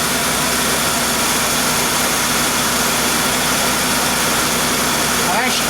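A 2000 Bonneville car engine idles with a steady, loud rumble and rises slightly in revs, running continuously close by.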